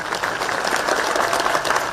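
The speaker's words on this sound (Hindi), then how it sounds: "ताली आधे लोगों ने बजाई, आधे ने बजाई नहीं" Applause from an audience at a political rally in Dalhousie, a steady wash of many hands clapping at moderate loudness throughout, seemingly thinner than full, with no clear talk over it.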